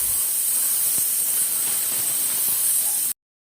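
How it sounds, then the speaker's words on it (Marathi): Pressure cooker whistle while cooking pulao rice: a loud, steady, high steam hiss that blows continuously for about three seconds, then cuts off abruptly to silence. "2 शिट्ट्या करून घ्यायच्या।"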